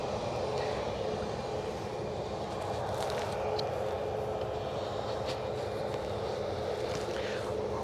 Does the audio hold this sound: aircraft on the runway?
yes